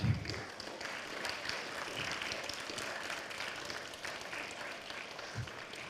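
An audience at a forum session claps together in a soft, distant wash of applause with a few louder thumps, steady throughout and fairly faint.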